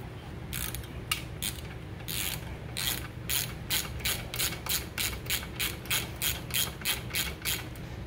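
Ratchet wrench backing a bolt out of a 2017 Yamaha 115 SHO outboard motor, close and fairly quiet, with a steady series of sharp clicking sweeps that grows more regular and rhythmic as it goes.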